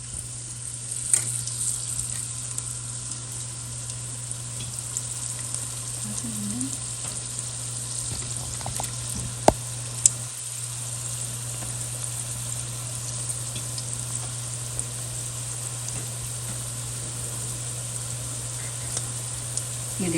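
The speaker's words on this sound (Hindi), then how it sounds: "इनको ऐसे कर लेंगे फ्राई।" Iftar snacks fry in hot oil, a continuous even sizzle and crackle held close for a long stretch, with occasional small pops and no speech.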